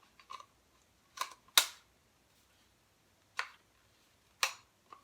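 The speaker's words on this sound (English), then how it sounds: "when you hear that snap, it's locked" A few sharp plastic snaps and clicks as an attachment locks onto a lightweight 4-in-1 blow dryer brush, close and isolated, scattered with pauses between them.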